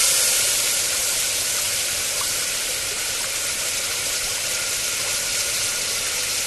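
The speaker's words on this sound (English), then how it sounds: "Place in water to cool and set." A hot extruded aluminum tube, around 500 degrees, hisses as it is quenched in water, a loud, steady broadband hiss close by that holds for several seconds without talk.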